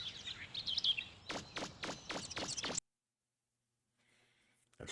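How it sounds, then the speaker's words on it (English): Birds chirp loudly in a quick series of about six sharp, evenly spaced calls, then stop abruptly into near silence, with a faint high trill and another burst at the very end. "Those fucking birds are so loud."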